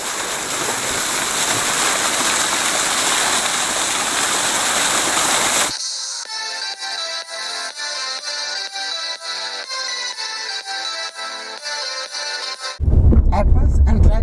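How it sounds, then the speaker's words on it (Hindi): A roadside waterfall in the rainy season, on the hills between Shimla and Solan, roars with loud, close, steady rushing water for about six seconds before music takes over. "मैं रुक गया हूँ एक बहती हुई झरने के पास।"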